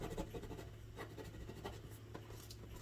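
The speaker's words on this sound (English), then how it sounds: "you'll get your bone folder or your scraper" A bone folder or scraper rubs steadily across vinyl, giving soft, quiet scratchy strokes in an uneven rhythm close by.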